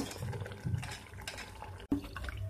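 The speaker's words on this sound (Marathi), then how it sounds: "आता याच्यात आपण आवश्यकतेनुसार पाणी घालून घेतलेलं आहे।" Water poured into a Malvani prawn curry made with a raw ground paste of onion, coconut and chilli, a soft continuous splashing pour up close at low level, with no voices.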